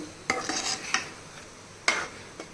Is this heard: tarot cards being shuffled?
no